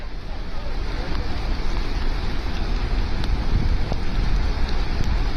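A flash flood torrent roars down a mountain stream in Himachal Pradesh after a cloudburst, a loud, steady rushing of water that fills the whole stretch without a break.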